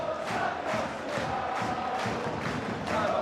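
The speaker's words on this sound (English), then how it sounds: "And the crowd serenading Sam Cassiano." Rugby league crowd in a Super League stadium during Warrington v Castleford, singing in unison to serenade a player: a distant, rhythmic chant with pulsing beats under a steady crowd roar.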